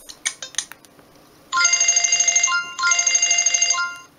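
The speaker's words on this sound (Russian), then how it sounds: "Так, полифония звучит. Это из музыкального редактора. Демонстративная композиция." Polyphonic demo melody from a Sony Ericsson Z710i phone's music editor, played as a ringtone: a few short plinks, a pause, then two bright, sustained electronic phrases with a bouncing pulse, loud and clear with no talking.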